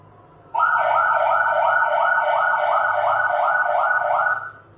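An ambulance siren recording played again in a classroom, starting abruptly after a quiet moment and sounding a loud, rapid, evenly repeating warble before cutting off near the end.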